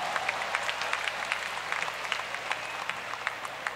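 Audience applause for the percussionist at a live jazz festival concert, a dense, steady patter of clapping from a crowd, moderately loud and alone.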